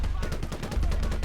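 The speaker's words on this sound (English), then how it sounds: "I'm gonna let the machine gunner shoot." Machine gun in the World War II game Gates of Hell: Liberation fires a rapid, evenly spaced burst of loud, close shots that runs without pause for just over a second.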